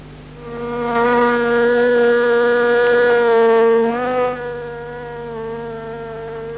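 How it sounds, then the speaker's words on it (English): A steady insect buzz with a strong harmonic drone, loud and close, swelling slightly then dropping in pitch and level toward the end. "A bee's buzz sounds as it does because its wings oscillate more than 200 times a second."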